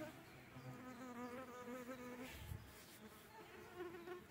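Mosquitoes and other flying insects whine and hum steadily around a walker in a spruce forest, a close, continuous buzz with shifting pitches that swells and fades as they circle nearby.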